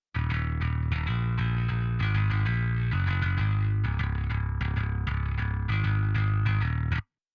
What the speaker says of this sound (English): But I wanted a little bit of that distorted bass.